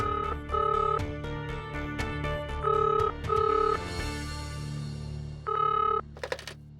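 A loud electronic telephone ring in repeated bursts, with sharp clicks between rings and a brief silence before the last ring.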